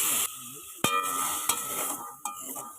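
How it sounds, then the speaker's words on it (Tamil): Green peas being stir-fried with curry leaves, mustard seeds and green chilli in a pan: a steady loud sizzle broken by a few sharp clinks and scrapes of a spoon stirring against the pan. "இப்போ பச்சை பட்டாணியை கொட்டிக்கலாம்."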